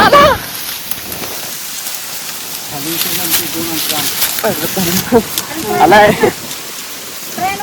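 Summer rain pours down in Kolhapur, a steady close patter on surfaces while people talk and call out over it.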